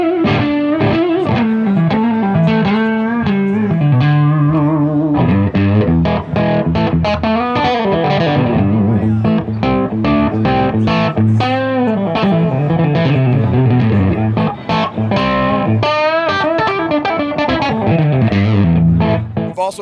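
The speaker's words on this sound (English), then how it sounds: "Bias Distortion is probably the most flexible distortion pedal in the world because it works with any amplifier." Electric guitar played through a Positive Grid Bias Distortion pedal, loud overdriven riffs and sustained chords with rhythmic picked passages, continuous and up front with no talk.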